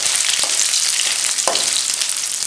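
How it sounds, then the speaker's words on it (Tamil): Chilies and omavalli (ajwain) leaves sauté in a hot pan for thokku, giving a steady, close sizzle with a couple of brief scraping stirs and no talk. "இலைகளை போட்டு நல்லா ஒரு அளவுக்கு வதக்கணும்"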